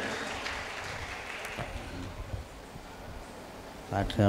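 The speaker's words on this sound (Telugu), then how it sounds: "గట్టిగా చప్పట్లు కొట్టి గట్టిగా దేవుని మహింపరుద్దాం" A congregation at a prayer meeting claps for God, with soft, diffuse, steady clapping that fades toward the end before a voice cuts in.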